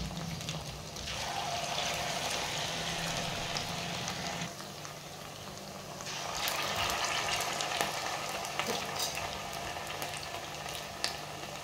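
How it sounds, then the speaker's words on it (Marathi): Vadas deep-fry in hot oil in a kadhai over a high gas flame, producing a continuous bubbling hiss that eases briefly midway and then swells again, with a few faint clinks scattered through. "आणि आता आपण हे तळायला टाकून देऊ। अशाच पद्धतीने आपण सगळे वडे याच्यामध्ये टाकून घेऊया।"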